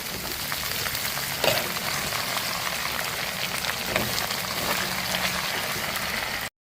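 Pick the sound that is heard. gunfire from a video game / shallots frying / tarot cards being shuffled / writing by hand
shallots frying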